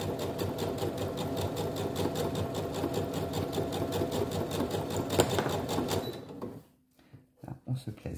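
A sewing machine stitches a fabric pencil case, running steadily and loudly with a fast mechanical rhythm for about six seconds before stopping, followed by a few soft handling knocks.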